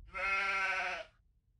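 A single sheep bleats once in the Gothic mod Kroniki Myrtany: Archolos, a loud, close, wavering cry lasting about a second before cutting off.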